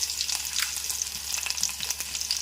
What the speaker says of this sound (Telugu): అదిగోండి వెల్లుల్లిపాయలు వేసాను,